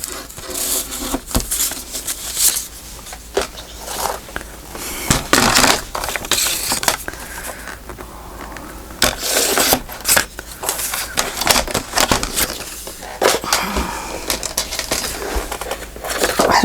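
Paper cut with scissors at a craft table: a steady run of crisp snips and rustling crinkles, close and fairly loud, in irregular bursts with no talking.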